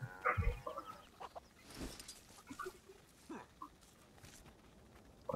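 In Guild Wars 2, chickens cluck near and fairly clearly in a few short bursts, with scattered game sounds between them.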